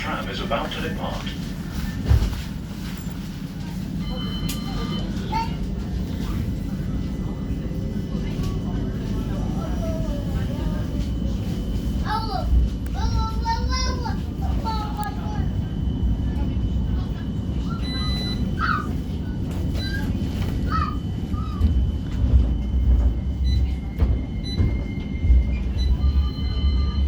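A West Midlands Metro tram pulls away from a stop with a steady low rumble and rolling drone throughout, while a voice speaks over it.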